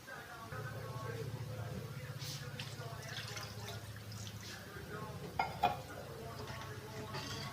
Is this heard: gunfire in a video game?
no